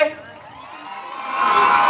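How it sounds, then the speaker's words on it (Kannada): Loud, dense crowd noise from spectators at a kabaddi final, cheering and clapping that swells louder toward the end, with shouts mixed in. "ಜೋರಾದ ಚಪ್ಪಾಳೆ"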